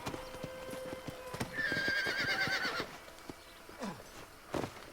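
Horse hooves clip-clop in a steady walking rhythm while a horse whinnies loudly partway through, with game-like ambience around it, in the video game Red Dead Redemption.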